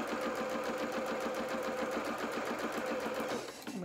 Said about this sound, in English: I need to stitch up to my red pin, and I'm going to reverse at that point.